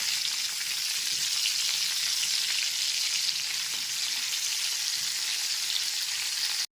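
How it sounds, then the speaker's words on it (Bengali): Pointed gourd pieces coated with turmeric frying over a medium gas flame, producing an even, continuous sizzle at moderate volume that stops abruptly at the end. "গ্যাসের ফ্লেমটা মিডিয়ামে রেখে পটলগুলোকে একটু সময় নিয়ে ভেজে নেব"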